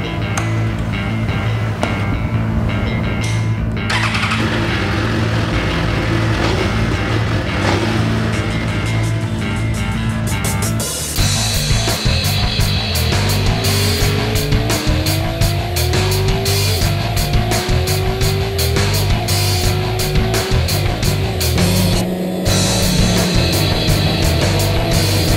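A Suzuki GSX-R1000 sportbike ridden at speed around the Homestead Miami Speedway track, its engine loud and constant, revving up and down through gear changes with rising pitch sweeps, no talking.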